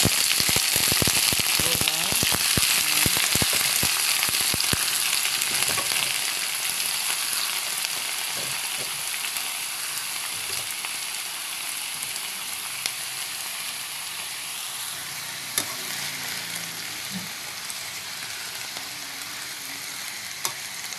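Mixed vegetables for chop suey fry in a hot pan with a steady, broadband sizzle, loudest in the first few seconds and then settling into a constant hiss with occasional crackles.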